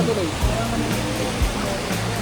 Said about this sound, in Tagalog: Taytay Falls.